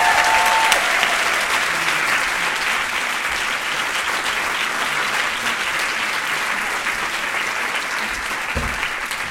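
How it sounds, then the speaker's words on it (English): A roomful of people at an award gathering claps steadily and loudly for several seconds, even and continuous, with no voices on top. "So can we give her a round of applause,"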